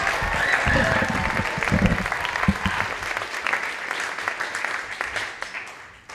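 An audience at a library slam poetry competition gives loud, dense applause that gradually thins and fades out over several seconds.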